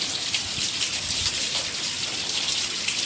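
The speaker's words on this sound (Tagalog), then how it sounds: "Ito yung mga nakakasipon na na ulan." Heavy tropical-storm rain from Tropical Storm Luis pours steadily over Baguio City, a dense, continuous hiss of drops hitting surfaces, close and loud throughout with no voices.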